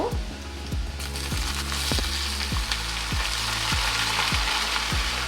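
Chopped onion fries in hot oil for a Malabar spinach fruit dish, with a steady loud sizzle. A spatula scrapes the pan in regular strokes about every half second, close up, with no talking.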